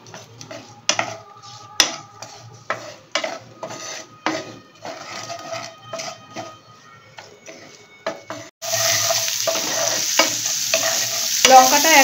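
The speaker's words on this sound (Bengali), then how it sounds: "লঙ্কা আর গার্লিক ক্লোভটা 1 মিনিট তেলে নেড়ে নিলাম।" Chili and garlic cloves stirred and frying in oil for a Bhutanese ima datshi, with a spoon scraping the pan in irregular bursts, then a sudden louder, steady sizzle near the end.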